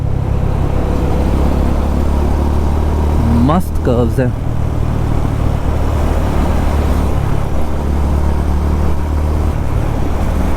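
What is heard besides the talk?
Honda CB350 RS motorcycle riding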